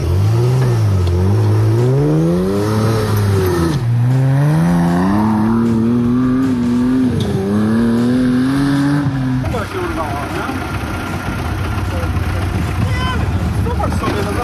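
4x4 rally car engine at full throttle, climbing through several rising rev sweeps with gear changes, loud and close from inside the car, followed by rougher driving noise, with voices talking over it.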